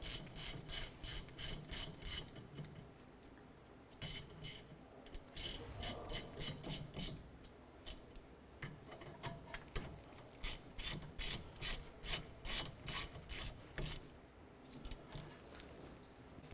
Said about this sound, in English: caliper bolts threaded in, a few threads. Just going to go ahead and snug these down.